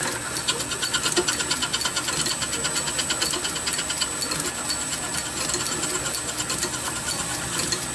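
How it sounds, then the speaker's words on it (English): A lathe machines a brass piston for an oscillating engine, giving a steady mechanical whirring hum with a rapid rhythmic ticking and faint hiss, continuous and fairly close, with no talking. "the first thing to do is machine the piston and get it somewhere near right"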